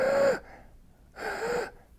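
A person imitating the raspy, noisy breathing of cattle with upper respiratory disease: two harsh wheezing breaths about a second apart, close and moderately loud, with no talking.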